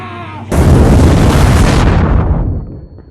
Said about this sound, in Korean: 이로 인해 가스가 폭발하고